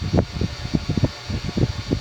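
Antique Diehl 52-inch ceiling fan from around the late 1920s to early 1930s, running on low speed through a speed coil, giving a steady buzzing hum with faint furnace rumble behind it.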